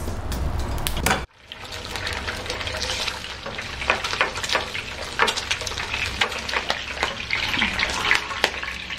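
Egg frying in a pan while making huevos motuleños, a steady close sizzle and crackle with scattered spattering pops, cut off briefly near the start and then running on continuously.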